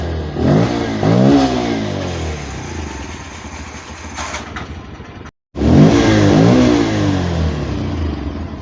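A Bajaj BS6 motorcycle engine revs hard twice, climbing in pitch and falling back to a rough idle between bursts, loud and close, with a brief dropout before the second rev.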